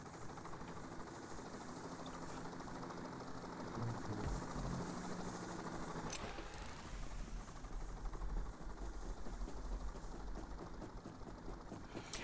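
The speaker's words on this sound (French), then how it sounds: "on voit que l'hélicoptère transporte le container" Helicopter carrying a shipping container in the heist game Payday 2, a steady rotor drone and engine rumble running the full length with a constant noisy wash and no talk.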